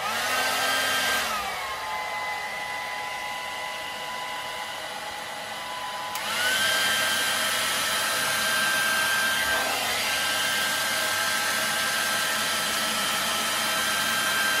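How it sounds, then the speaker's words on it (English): A hair dryer blows steadily with a loud, constant whine, briefly dropping in pitch partway through before returning to full power. "hairdryer at the ready"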